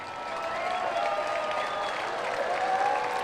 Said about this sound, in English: Crowd claps their hands.